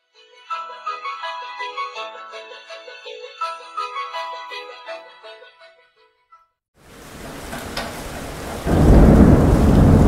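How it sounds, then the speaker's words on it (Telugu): Heavy thunderstorm sound effect for a Telugu audiobook: after a stretch of music, a dense roar of pouring rain rises, then a loud rumble of thunder swells over the downpour. "ఆకాశంలో ఉరుములు చప్పుడు, ఆకాశానికి చిల్లులు పడినట్లు ఆగకుండా వర్షం"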